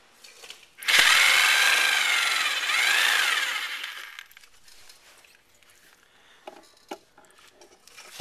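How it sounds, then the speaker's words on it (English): A Sawzall reciprocating saw cuts through a metal fender brace tab on the back of a Honda Shadow Aero Phantom 750 motorcycle, a loud, steady buzzing burst lasting about three seconds, then fading to a few faint clicks and taps. "I feel like Tim Allen here cutting this off the back of this bike here with my Sawzall"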